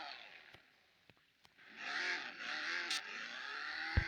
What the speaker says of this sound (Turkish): Bakın ara gaz da verelim